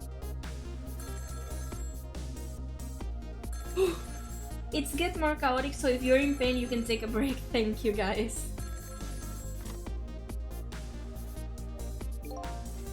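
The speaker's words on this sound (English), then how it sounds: "The phone rang." A telephone rings in the video game Ghost Trick, a game ring tone set against steady background music, while a person talks over it.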